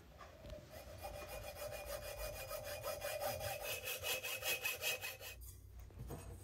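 A stainless steel exhaust bend for a Kawasaki Z1R Turbo being cut with a hand saw, its steady back-and-forth rasping strokes close and moderately loud, with no talking.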